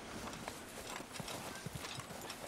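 Horse hooves clip-clopping through snow in the Red Dead Redemption 2 video game, a steady rhythmic series of soft thuds at a walking pace over a dense background of game ambience.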